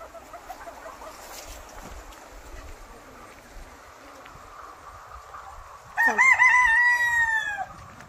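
Chickens at a layer poultry farm, one loud nearby cackle or crow rising clearly over a low, steady background murmur of the flock.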